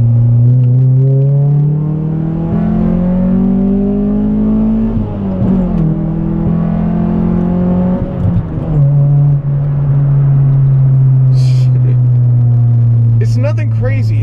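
A manual Honda Prelude accelerating in second gear, then a quick dip as it shifts into third and the engine pulls again; steady, close droning engine note with rising pitch, under faint background sounds.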